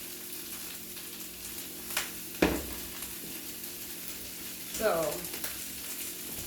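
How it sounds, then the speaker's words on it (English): Onions and bacon in a little olive oil fry with a steady low sizzle, broken by a couple of sharp utensil knocks and a brief scraping stir; a voice speaks once. "we're going to add just a little olive oil, okay, because we are going to fry this"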